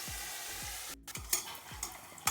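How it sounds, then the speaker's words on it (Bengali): Pieces of katla fish fry in oil in a pan, a soft continuous sizzle punctuated by repeated low knocks and sharper scraping clicks from stirring, with no one speaking. "আমি একটু ভেজে নিচ্ছি লাল লাল করে।"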